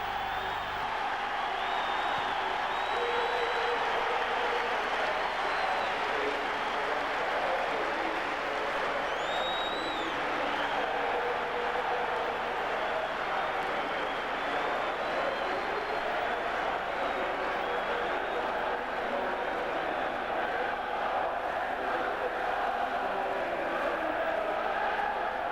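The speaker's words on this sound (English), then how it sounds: "Football supporters in Glasgow are among the noisiest in the world when it comes to cheering on their team." Glasgow football supporters cheer on their team as a dense, sustained crowd roar that stays loud and steady throughout, with no pauses.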